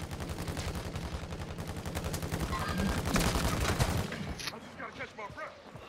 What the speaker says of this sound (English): I shot him twice